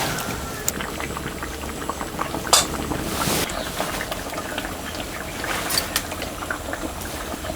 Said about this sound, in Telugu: ఇప్పుడు చిక్కదనాన్ని సరిపడా నీళ్లు పోసుకుని ఈ సాంబార్ని బాగా ఉడకనిద్దాం